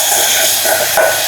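Spices fry in a pan with a loud, steady, broad sizzling hiss that stays close and constant throughout, with no voices.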